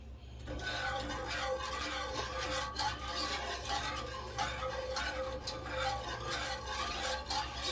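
Heavy cream being whisked in a pan for cheesy scalloped potatoes and ham, a steady scraping and ticking of the whisk against metal running continuously and close, with faint clinks of cookware throughout.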